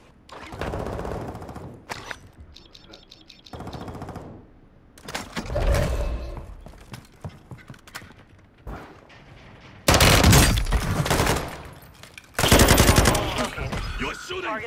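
Gunfire in Call of Duty: Modern Warfare II, several sharp bursts of automatic fire in separate clusters, with the loudest, densest volleys late on, between quieter gaps.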